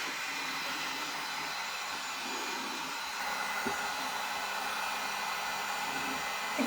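A hair dryer blows on a handmade DIY firefly box, a steady close-up whirring hiss that holds at an even level throughout with no speech.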